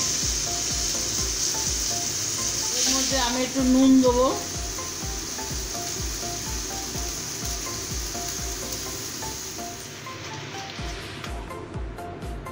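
Small washed chicken pieces sizzle steadily in hot oil in a home kitchen, a constant crackling fry that runs throughout while someone speaks briefly over it and a utensil clinks against the pan.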